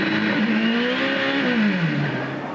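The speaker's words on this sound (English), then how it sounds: "There's reverse selected for Tracy" An Indy race car engine at the 2003 Indy Australia race idles and revs at a low, wavering pitch as reverse gear is selected under a full-course yellow, loud and close with a steady roar of background noise.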